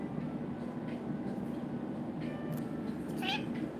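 A house cat meows once, briefly and faintly, over a steady low room hum.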